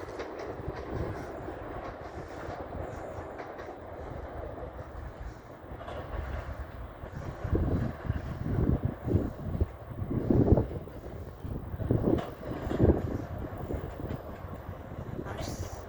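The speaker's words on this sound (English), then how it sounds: "Long train there." A long train rumbles past with rhythmic clatter rising to a loud stretch, broadband wind-like noise throughout, rolling on for the whole span.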